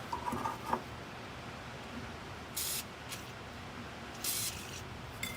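Penetrating oil is sprayed from an aerosol can onto old brake and shock parts of a 1970 Mach 1 in two short hissing bursts, close by, with quiet pauses between them.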